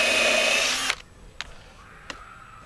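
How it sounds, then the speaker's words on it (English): Power drill boring through wood during workbench assembly gives a loud high whine for about a second, then stops, followed by a couple of sharp knocks and faint handling noises. "So all I need to do now is drill through here."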